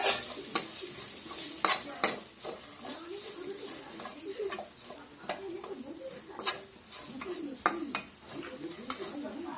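Red chilli powder, garam masala, coriander powder and turmeric are stirred and sautéed in a pan for Marathi potato masala rice, giving a soft sizzle beneath repeated scraping and clinking of a spoon against the pan, close up, with no talk.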